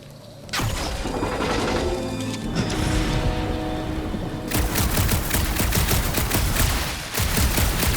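Sci-fi gunfire rattles through a space battle from Guardians of the Galaxy, a loud, dense fusillade of rapid shots with mechanical clatter that surges continuously for several seconds, intensifying partway through.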